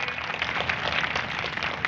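Sustained, dense clapping from a crowd at an outdoor political rally on Kasganj Road in Etah, applause welcoming a state party president onto the stage, steady and broadband with no clear pauses.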